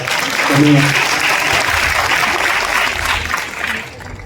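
Audience applause at a devotional abhang and kirtan event, a dense sustained clapping that swells early and stays loud before tapering off near the end.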